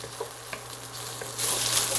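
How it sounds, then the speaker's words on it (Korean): Green onions are stir-fried in a pan, giving a faint steady sizzle with a few soft scrapes of stirring, growing louder and brighter toward the end. "파를 먼저 볶으면 이게 파향이 나서 좀 좋아진다고 레시피에 나오더라고요."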